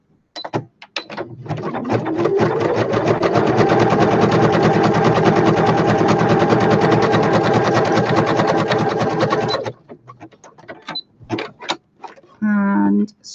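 A sewing machine runs a steady zigzag stitch through patchwork fabric, loud and continuous for several seconds, then stops, followed by short clicks and a brief voice.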